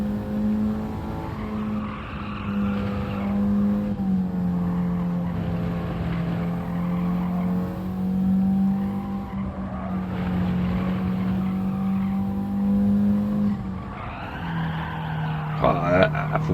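Cars sliding with tyre squeal in Gran Turismo 7, a four-wheel-drive car drifting through a corner, its steady engine drone running throughout with a sharper squeal near the end, while someone talks over it.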